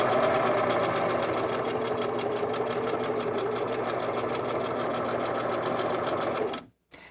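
A sewing machine stitches a quarter-inch quilting seam in a fast, even mechanical chatter, loud and close, running continuously before stopping abruptly near the end.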